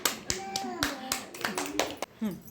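Applause at a haldi-kunku gathering for Rathasaptami: a few hands clap in quick scattered bursts, close by, with women's and children's voices talking over them.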